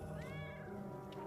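A cat in the video game Dead by Daylight gives a single drawn-out meow, close and clear over a faint background hum.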